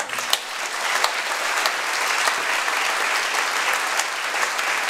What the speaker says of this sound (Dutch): Hadassah de Boer, een groot applaus voor haar.